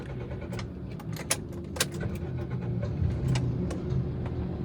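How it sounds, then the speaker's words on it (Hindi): A car's engine is started from inside the cabin: a few sharp clicks and knocks, then a low rumble that swells and settles into a steady idle. "नहीं गाड़ी स्टार्ट करता हूँ"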